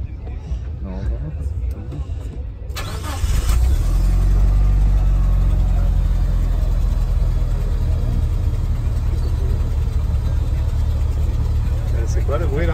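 A Mitsubishi Evo 7 engine idles with a steady, loud low rumble and a ticking exhaust manifold gasket leak, starting up partway in and holding a constant drone while people talk over it.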